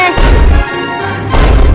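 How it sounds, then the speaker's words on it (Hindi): Cartoon firecracker blasts from a Diwali comedy scene, two loud booming bursts separated by a short lower rumble, close and forceful, with no talking. "दूर ही पटाखा फोड़ना, लेकिन तुम दोनों ने मेरे पास ही फोड़ दिया"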